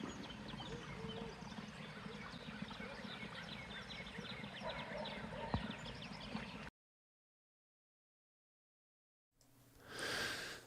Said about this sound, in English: It's really beautiful out here with all the water sounds and the bird sounds.